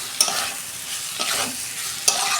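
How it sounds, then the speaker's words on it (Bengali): Prawns sizzle in a pan with a snake gourd and potato curry, a steady close frying hiss broken by a few sharp scraping stirs, no voices. "এই যে কষানো আমার হয়ে গেছে, আমি চিংড়ি মাছ দিয়ে দিচ্ছি।"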